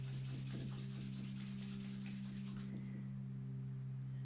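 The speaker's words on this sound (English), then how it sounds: "gently bringing the palms of your hands together and rubbing them to generate heat" Palms are rubbed together to warm the hands during a sound healing session, giving a soft rhythmic swishing for about three seconds, then stopping, over a steady low drone.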